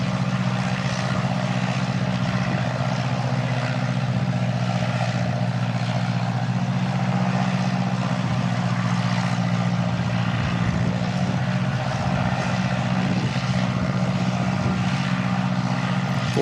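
Steady propeller aircraft drone at Christchurch Airport, a continuous low hum with broad rushing noise holding level throughout, no voices over it.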